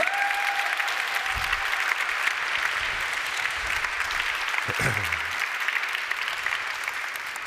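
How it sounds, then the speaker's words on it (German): Strong applause from a theatre audience at a live evening stage show before a performer's ten-minute slot, steady dense clapping throughout with a faint tone and a brief low thud partway through. "Machen Sie einen kräftigen Applaus."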